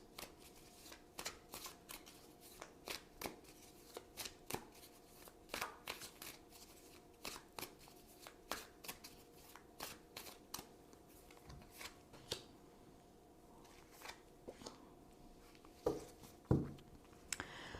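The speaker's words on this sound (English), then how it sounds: "So now I'm going to choose 2 cards for possible outcomes." Tarot cards are shuffled close up, producing repeated soft riffling bursts and taps at a steady rhythm, quiet and unaccompanied by speech, ending with a couple of sharper card snaps.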